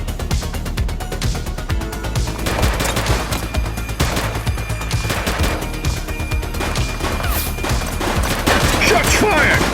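Gunfire in the police video game The Precinct: a loud, dense burst of rapid shots and rattling automatic fire continuing throughout, close and unbroken.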